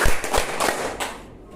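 School pupils clap on a teacher's count in a classroom, three or four sharp group claps in quick succession that fade into a quieter tail.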